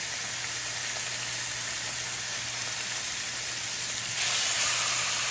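Meat searing in a hot pan gives a steady, close sizzling hiss that holds evenly throughout and grows slightly brighter near the end, with no talking.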